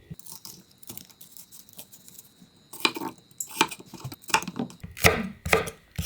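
A kitchen knife slices cucumber on a cutting board, giving close, crisp chops that start sparse and quiet, then come in quicker, louder bursts of several strokes.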